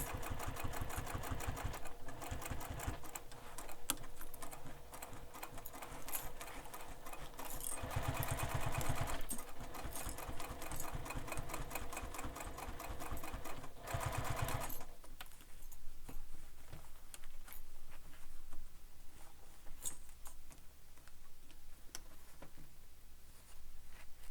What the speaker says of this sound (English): now we're going to stitch around the entire bag